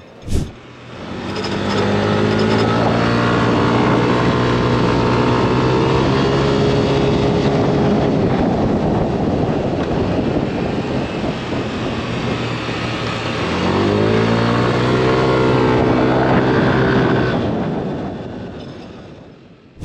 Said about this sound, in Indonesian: YECVT 1, 2, dan 3 itu kalau kita pencet, dia mesinnya jadi lebih meraung